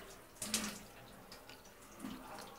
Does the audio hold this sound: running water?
yes